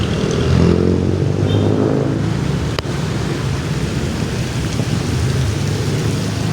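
Heavy rain pours steadily in a flooded street, a dense continuous wash with a sharp crack of thunder near the middle and passing traffic rumbling underneath; no one speaks.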